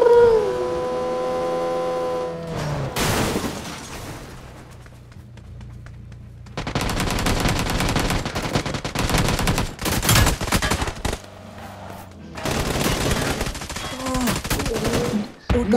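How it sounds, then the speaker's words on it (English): Automatic weapon fire from the mobile battle royale game New State Mobile, loud rapid bursts split by short pauses, following an opening stretch of howling, wavering tones. "I can't stop shooting. It's auto fire. It's always shooting."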